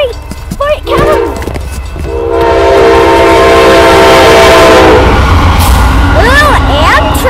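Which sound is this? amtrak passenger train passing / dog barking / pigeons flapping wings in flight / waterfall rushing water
amtrak passenger train passing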